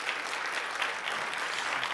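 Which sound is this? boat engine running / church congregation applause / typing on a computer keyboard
church congregation applause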